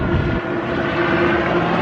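A helicopter passes overhead at Universal Studios, a loud, steady droning rumble with a constant low hum that fills the whole stretch without a break.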